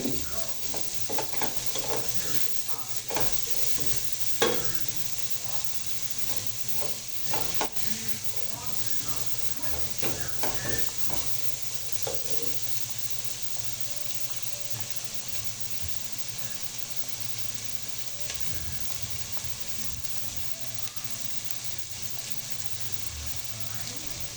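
Potato chips fry in a little oil on a stovetop burner, a continuous close sizzle with scattered clinks and scrapes of stirring throughout.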